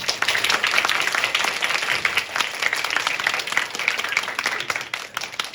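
Applause from a lecture audience at the end of a talk, a dense, steady clapping that fills the room and fades slightly toward the end.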